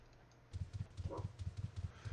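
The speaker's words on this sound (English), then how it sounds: "Quit your barking." A dog named Marley barks in a rapid, even string of short, fairly quiet woofs, about eight in two seconds, after a moment of near silence.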